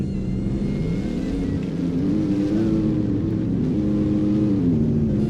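Loud car engine at a Southwest Florida car meet, idling and revving steadily with rising and falling pitch, close and continuous with no talking.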